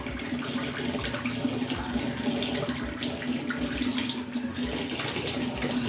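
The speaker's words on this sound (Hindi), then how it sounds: "चल चलो डालो पानी, हल्के हल्के डालें, गर्दन की तरफ डालना, सर तक नहीं डालना, डोंगे से डाल दो, मग से डालो" Water is poured steadily from a mug over a newborn baby during a bath, a continuous splashing trickle that runs alone for several seconds at close range.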